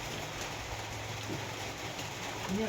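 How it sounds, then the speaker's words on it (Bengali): Rain falls outside, a soft steady hiss heard from indoors at a low level, with faint household noises and brief voice-like sounds in the background. "আর বাইরে এদিকে বৃষ্টি শুরু হয়েছে"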